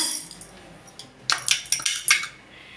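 Dry chana dal tumbles into a hot dry pan for roasting, a quick burst of rattling, clinking hits as the lentils scatter across the metal, close and crisp, then fading to quiet.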